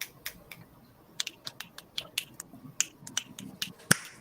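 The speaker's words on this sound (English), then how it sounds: "Do you want the finger snaps instead?" Sharp, crisp finger snaps ring out one at a time in an uneven sparse rhythm, close and fairly quiet, with one louder snap near the end.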